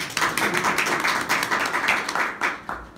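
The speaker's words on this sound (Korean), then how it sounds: "박수 한번 주세요" An audience at a lecture claps, a close, steady patter of many hands that tapers off after about three seconds.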